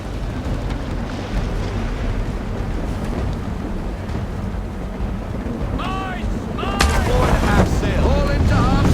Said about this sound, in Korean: 반대쪽에서 지금 바람이 불죠.